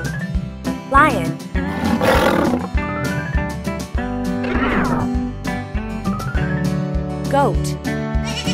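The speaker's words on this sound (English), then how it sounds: "Lion." A cartoon lion roars several times over a busy, cheerful children's song, with the roars rising out of the music at intervals.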